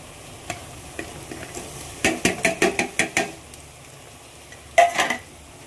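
Tomatoes going into onion and garlic frying in a pan, with a burst of sizzling, a quick series of utensil scrapes and knocks against the pan, then a couple more stirring clatters.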